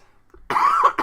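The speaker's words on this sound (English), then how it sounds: "Still working on that cough" A single harsh cough bursts out after a quiet moment, followed by a brief second cough, close and loud.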